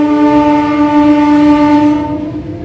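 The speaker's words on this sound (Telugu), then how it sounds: "బయలుదేరిపోతుంది కూడా మన ట్రైన్ అయితే" A MEMU passenger train pulls away from Pasivedala station on the Vijayawada–Rajahmundry line, its loud sustained horn ringing steadily for about two seconds over a rumbling engine, then fading slightly.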